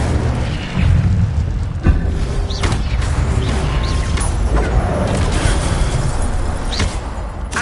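Incendio fire spell blasts from Hogwarts Legacy, a series of loud booming bursts over a dense, continuous rumble of game combat, with sharp hits recurring every second or two.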